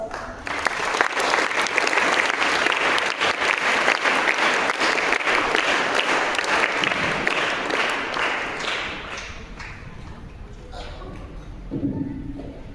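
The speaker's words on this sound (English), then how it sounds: "Let us welcome this eminent personality with a big round of applause." Loud, steady applause from a large crowd of school students, continuous for several seconds before tapering off into scattered claps.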